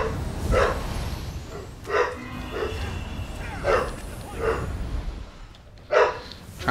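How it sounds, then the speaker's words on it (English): A dog barking off and on in a room, about six separate barks and yips spaced a second or so apart, fairly close, over faint game sound and no speech. "I hear my dog barking."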